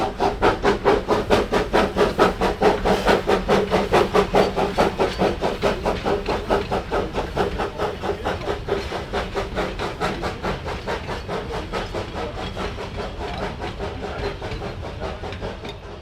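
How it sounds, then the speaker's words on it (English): A steam locomotive pulling a visitor train chuffs past in a loud, steady rhythm of rapid puffs, with hissing steam, gradually fading slightly as it moves along. "this is where I'm waiting for the visitor train to pass by"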